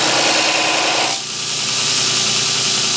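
A belt grinder works a knife blade in the shop, a loud steady whirring hiss that drops briefly as the blade comes off the belt, then the motor keeps humming on.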